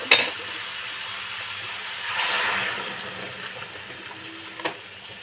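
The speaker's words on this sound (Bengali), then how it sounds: "আমি এর মধ্যে জল দেবো।" Water poured into a sautéed soybean, pumpkin and jackfruit-seed curry with stems rises into a brief hissing swell over a low sizzle, followed by a single sharp clink.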